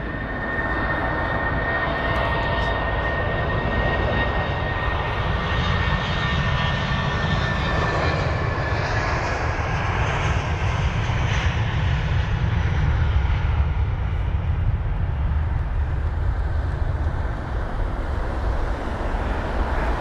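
Jet airliner in a special Mercedes-Benz livery taxiing at London Heathrow, a steady loud engine roar with a faint high whine, continuous and fairly close, mixed with wind noise and no talking.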